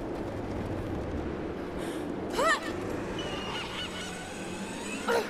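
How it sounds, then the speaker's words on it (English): Birds in the video game Rise of the Tomb Raider give a few loud goose-like honks, two sharp calls standing out over a steady outdoor ambient hum. "Birds just flying around doing their thing."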